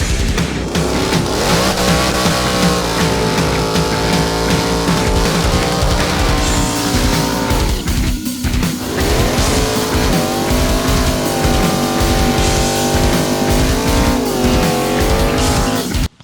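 A 2009 Subaru Forester with all-wheel drive and a five-speed gearbox gives a loud, continuous engine drone whose pitch rises and falls with revs, with a brief dip midway and no talking.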